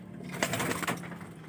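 Racing pigeons coo softly in a loft, a low murmuring warble over faint background hiss, fairly quiet and close.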